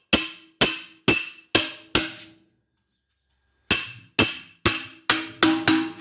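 A hammer taps on the sheet-metal casing of a 200-litre water heater: five sharp ringing blows at an even pace, a pause, then six more, close and clear.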